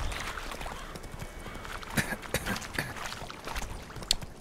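Roach, a horse in The Witcher 3 video game, gallops in a steady rhythmic clip-clop of hooves over a continuous game soundscape, with a few sharper accents and no talk.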